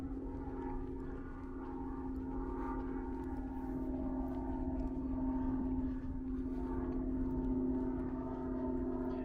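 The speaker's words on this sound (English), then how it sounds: "That sound you hear is a plane passing over." A steady low droning roar of an airplane passing overhead above a Brooklyn, New York street, sustained and fairly faint, with a constant engine tone throughout.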